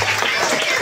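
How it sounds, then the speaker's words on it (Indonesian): Schoolchildren applauding together in an elementary school classroom, a dense, loud burst of clapping lasting under a second. "Tepuk tangan kalau betul."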